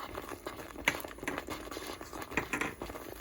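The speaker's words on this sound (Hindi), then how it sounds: "अब मसाला भुनना शुरू हो गया" Masala roasting in a pan for a lobia curry, giving a busy crackling patter with a few sharper pops over the steady bubbling, close and moderately loud.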